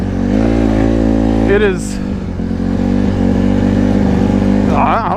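A street-legal Honda CRF150RB trail motorcycle with highway-rated knobby tires idles and revs up in short rising bursts, close and fairly loud, while someone speaks over it.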